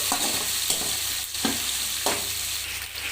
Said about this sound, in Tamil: சின்ன வெங்காயம் போட்டுக்கலாம் வெங்காயம் வந்து கொஞ்சம் நல்லா வதங்கட்டும்